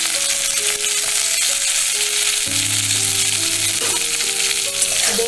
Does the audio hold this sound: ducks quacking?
no